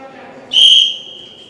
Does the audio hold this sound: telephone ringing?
no